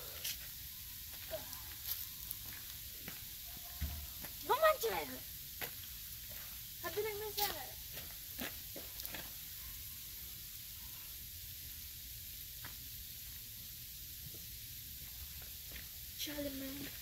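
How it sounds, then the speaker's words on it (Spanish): Ice falling outdoors in a winter storm makes a soft, steady hiss with scattered faint ticks and small crackling bursts, quiet and distant throughout. "Escuchen cómo se oye cuando cae el hielo."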